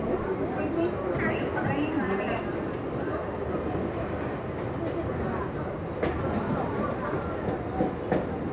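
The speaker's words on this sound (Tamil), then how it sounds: "இப்போ நீங்கள் கூட்ஸ் ட்ரெயின் பார்த்துருப்பீங்க, அது வந்து 3rd லைனில் தான் வருது" A goods train rumbles past steadily on a Chennai Beach–Egmore line, with a continuous rolling drone and occasional clicks from the wheels on the track.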